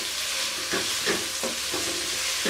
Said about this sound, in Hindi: हरी मिर्च और इसको हम तकरीबन 3 से 4 मिनट इसी तरह फ्राई करेंगे।